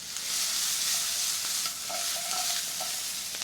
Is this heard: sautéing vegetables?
yes